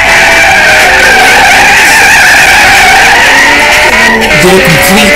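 A Ferrari 458 Italia drifting in a video game, with a loud continuous tire squeal and skid layered over engine noise for the whole stretch, close and steady, no talk.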